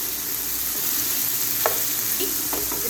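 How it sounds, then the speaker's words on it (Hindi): Capsicum, carrots and potatoes sizzle steadily as they are stir-fried in a pan, with a continuous hiss broken by a few soft scraping stirs. "शिमला मिर्च और आलू। बस मैं अच्छे तरीके से कुक करूँगी।"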